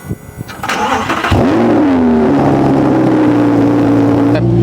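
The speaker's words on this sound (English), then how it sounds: "you don't like the sound of a V10 engine" A starter whirs briefly, then a V10 car engine catches with a loud bark and settles into a deep, steady idle close by.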